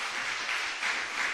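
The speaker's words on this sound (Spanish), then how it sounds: "Aplauda al Señor." A church congregation applauds together during a Sunday service, a dense, even wash of clapping that swells slightly in waves and fills the short moment without voices.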